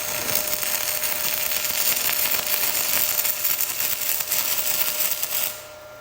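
Hitbox mini 115-volt stick welder burning a 6011 rod at about 170 amps, a loud steady crackling hiss lasting several seconds before cutting out abruptly near the end.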